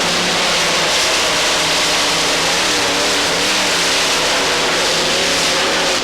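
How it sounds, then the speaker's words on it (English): Super Special tractor-pulling machine fitted with three Keith Black drag racing engines at the 1995 European Tractor Pulling event in Hörby, Sweden, a loud, dense, unbroken engine roar filling the whole clip with no talk. "He's got 3 Keith Black engines that normally power drag racers."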